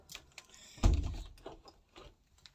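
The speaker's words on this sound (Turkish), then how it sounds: "şu camı kapatalım" A heavy sliding thump as a window is pushed shut nearby, followed by faint rattles and quiet shuffling.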